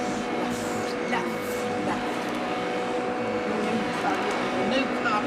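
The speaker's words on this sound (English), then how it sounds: "I hear a Hoover." A Hoover vacuum cleaner runs steadily on new wall-to-wall carpet at home, a continuous broadband whir droning throughout under voices talking.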